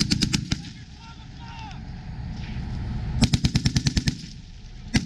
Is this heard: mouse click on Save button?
no